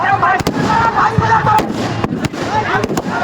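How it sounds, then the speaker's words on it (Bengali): Fireworks and firecrackers burst at the opening of a Victory Day football tournament final: a series of sharp, loud cracks at irregular intervals over a dense crowd roar, with voices talking nearby. "বিভিন্ন ধরনের বাজি প্রায় 10 থেকে 15 মিনিট এইভাবে ফোটার পর"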